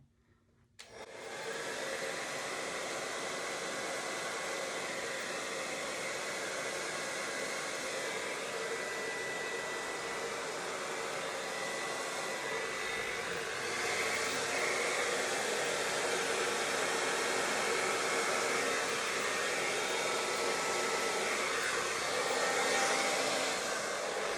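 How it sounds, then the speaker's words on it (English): A hair dryer roars steadily and close over a freshly poured Dutch-pour paint surface, a constant broadband whoosh that starts abruptly and grows slightly louder midway, with no talking. "I'm going to give it a little blowout with the hairdryer"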